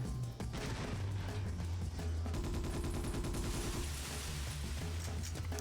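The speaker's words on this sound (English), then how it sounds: "Shooting with the SMG though is actually way easier." Rapid submachine-gun fire in the video game Ghost in the Shell: Stand Alone Complex, dense strings of loud close shots with brief gaps, layered over game music and tonal effects.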